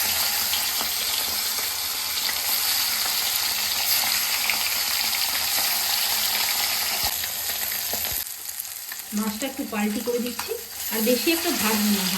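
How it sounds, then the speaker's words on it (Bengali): Puti fish frying in oil, a loud, steady sizzle up close that dips near the end as a faint voice and some clatter briefly come through. "মাছটা ভাজা হয়ে গেছে নামিয়ে রাখছি এখন"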